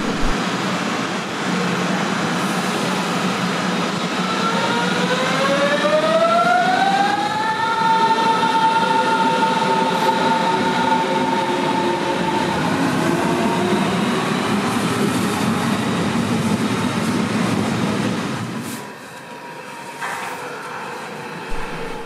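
A Berlin S-Bahn S75 train rides between stations, its electric motor whine sweeping upward and holding over a steady rolling rumble before the noise drops away near the end. No one speaks.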